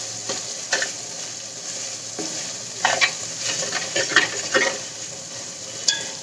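Tamarind extract stirred into a frying fish curry base in a pan, a low sizzle with repeated scraping stirs and light utensil clinks.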